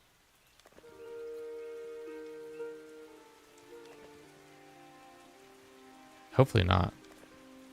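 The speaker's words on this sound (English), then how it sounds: "Oh, it's raining." Rain patters softly in the village-building video game Norland beneath gentle tonal music, with a brief spoken remark and a louder burst of sound near the end.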